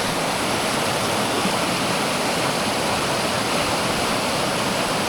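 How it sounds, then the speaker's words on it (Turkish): A strong river runs at a mountain campsite in Kyrgyzstan, giving a loud, steady rushing roar that fills the whole stretch close by, with no talk. "Epey sağlam bir nehir"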